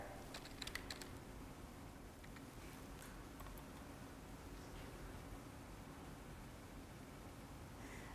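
Typing on a computer keyboard during an office software demo, faint, quick key clicks heard in a brief burst early on over a quiet background hiss.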